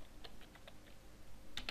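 Keys on a computer keyboard are tapped in a few quiet, scattered clicks, followed by a quick cluster of keystrokes near the end, faint and close with no talking.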